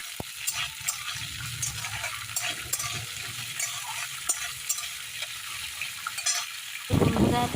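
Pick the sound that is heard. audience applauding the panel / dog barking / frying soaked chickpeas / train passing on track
frying soaked chickpeas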